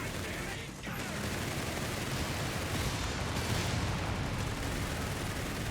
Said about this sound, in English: Panzer Grenadier, Panzer IV opening fire.